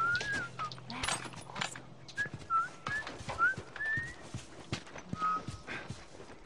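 A character in The Last of Us video game whistles a short tune in bright, wavering notes, heard in several brief phrases among game ambience with clopping and bird-like sounds.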